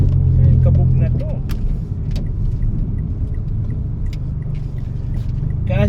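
Low rumble fills a car interior while riding along in hot weather, a steady road drone with light rattles and clicks, and people talking inside the vehicle.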